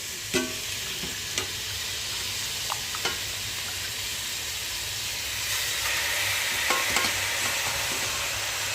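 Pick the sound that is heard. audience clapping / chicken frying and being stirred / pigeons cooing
chicken frying and being stirred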